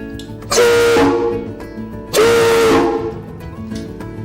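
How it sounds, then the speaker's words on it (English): A loud steam whistle from the Virginia 4 blows twice, each blast a strong, slightly wavering tone with a hissing onset, separated by a short pause. "This is a steam whistle from the Virginia 4. We're going to blow it now, and it's going to be very loud."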